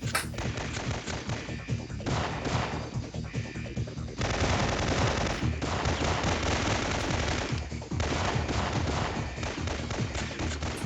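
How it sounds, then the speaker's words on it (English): Enemy gunfire in Syphon Filter, dense rapid automatic bursts rattling almost continuously at high volume, with short gaps and overlapping shots throughout. "they are shooting at me quite a lot"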